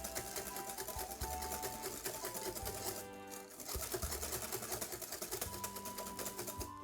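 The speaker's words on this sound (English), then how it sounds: "Give it a whisk." Sweet potato pancake batter whisked briskly in a bowl, a fast, continuous metallic clicking and tapping that keeps up an even rhythm throughout.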